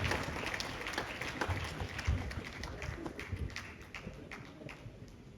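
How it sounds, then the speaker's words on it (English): Applause for a guest speaker at an annual award ceremony, a moderate rolling patter of many hands heard from some distance, gradually fading. "A round of applause for our guest speaker."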